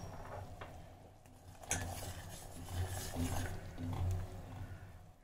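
A spoon stirs sugar syrup with lemon juice in a pot for gulab jamun, faint clinks and scrapes over a low, soft bubbling background, quiet and close with no speech.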